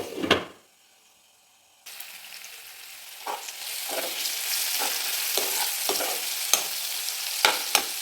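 Onions, garlic and green chili frying in a pan for an anchovy curry: after a brief clatter and a pause, a steady loud sizzle sets in, with repeated scraping stirs and spoon taps against the pan.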